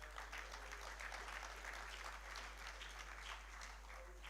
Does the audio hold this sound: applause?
yes